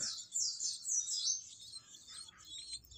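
A long-tailed shrike (cendet) chick chirps in rapid high, thin bursts while being hand-fed, close and fairly soft, with no voices.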